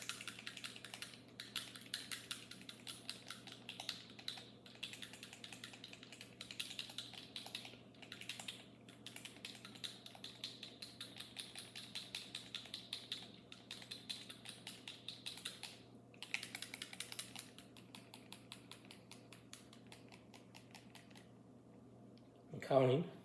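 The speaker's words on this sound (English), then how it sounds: "So I shake these 50 times" A paint dropper bottle with an agitator ball is shaken about fifty times, giving a fast, steady run of faint rattling clicks, close by and continuing throughout, ending with a brief louder knock.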